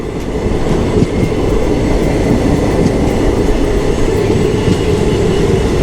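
An express train bound from Malda Town to Bengaluru rumbles steadily throughout, a loud, continuous low roar of wheels and carriages with faint rhythmic clatter and no voices.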